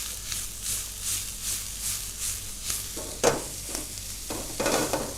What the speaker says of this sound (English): we just let for the onions to get nice and tender and with a little bit of colour